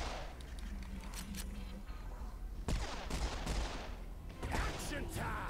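Gunfire in the shooter game Serious Sam 4, with a dense run of shots and blasts, then a heavy impact partway through followed by continued rattling fire, loud and busy, and faint talk mixed in.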